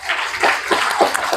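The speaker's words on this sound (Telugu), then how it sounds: "క్లాప్స్." An audience claps at a felicitation ceremony in a government girls' junior college, with steady, dense applause of many hands filling the short moment.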